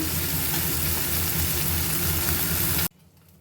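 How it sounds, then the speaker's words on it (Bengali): Small fish fry in a pan with a loud, dense sizzle up close that cuts off abruptly near the end, leaving a quiet background. "এই মাছটাকে ভাজবো আর এই মাছ দিয়েই বানাবো কচু দিয়ে চচ্চড়ি মাছগুলো প্রথমে ভেজে নিচ্ছি"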